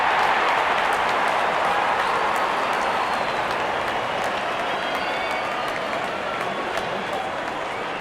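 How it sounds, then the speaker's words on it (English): A good-sized cricket crowd applauds and cheers steadily as the opening batsmen walk out, a dense continuous wash of clapping that holds level throughout with faint talk beneath. "Out come the openers, cheered by a good crowd in."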